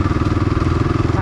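A motorcycle is ridden in cold weather, its engine putting out a steady, rapid pulsing throb that sounds close and loud.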